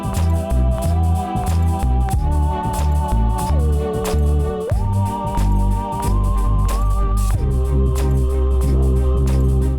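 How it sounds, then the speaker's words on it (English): A tweaked monster synth bass plays a punchy, looping low line in a spooky-style beat, under a thumping drum pattern and a wavering lead melody that shifts pitch in steps. "so I'm using this little monster sign bass that I tweaked a little bit."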